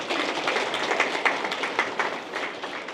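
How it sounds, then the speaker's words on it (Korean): An audience at a political lecture claps steadily, a dense, sustained round of applause from many people in a hall, with no speech over it. "여러분들 스스로와 김대중 대통령을 위해서 힘찬 박수 한번 치셔야 됩니다"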